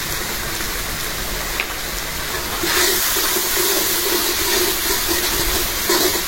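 Chili, coriander and cumin powders sauté for mutton khichuri with a loud, continuous sizzling hiss close by, which swells noticeably partway through and keeps going steadily with no voices.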